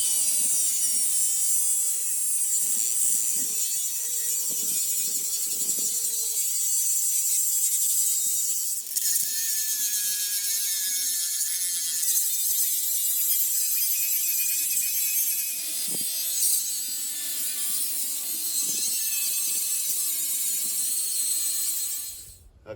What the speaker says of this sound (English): Okay, next step, start grinding.